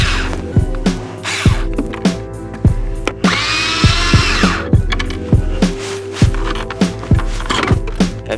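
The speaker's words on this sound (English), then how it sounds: "there are 3 screws on each side which you must remove." Repeated sharp clicks and clacks of screws being worked out of dashboard trim on a 2005–2009 Subaru Legacy/Outback, with a brief rustling scrape in the middle; close and rhythmic, no talking.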